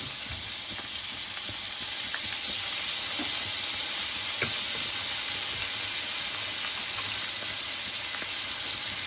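Garlic sizzling hard in hot bacon fat, a loud, dense, continuous hiss close up with faint crackles and pops scattered through it and no talking.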